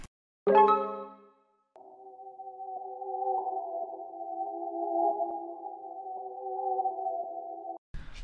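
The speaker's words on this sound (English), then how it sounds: "So the final result of the arp sounds like this." A synth arpeggio built in FL Studio, a brief bright plucked note followed by a steady sustained pulsing tone line that runs for several seconds, clean and alone with no talk.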